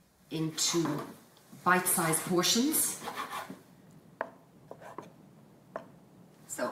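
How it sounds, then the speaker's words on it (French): A knife cuts fish into small pieces on a board, giving a few short, separate chopping taps after a stretch of nearby talk. "Je vais découper le poisson en petits morceaux"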